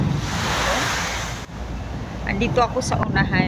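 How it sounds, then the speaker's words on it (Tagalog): Large sea waves in the middle of the sea wash and rush with gusting wind, loud at first, then a voice speaks over the continuing surf. "Oh, nakikita nyo ang lalaki ng mga alon."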